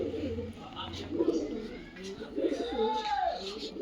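Pigeons coo at their perching spot, soft low repeated coos rising and falling close by over faint background noise.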